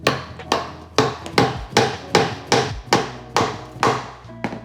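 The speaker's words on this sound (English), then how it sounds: "Hammer it in." A hammer drives a carriage bolt into a laser-cut stitching pony, about ten sharp, evenly spaced strikes, loud and close with no talk.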